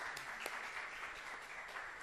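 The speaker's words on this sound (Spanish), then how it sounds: "Vamos a aplaudir." A lecture audience applauds steadily, a dense wash of clapping that holds at an even level throughout the short moment.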